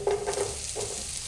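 Chopped onion drops into a pan of garlic frying until lightly golden, giving a brief burst of sizzling and a scrape of stirring.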